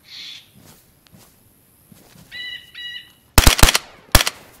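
Faint chirps and a short electronic tone lead into sudden loud bursts of rapid automatic machine-gun fire in DayZ, two close, sharp volleys.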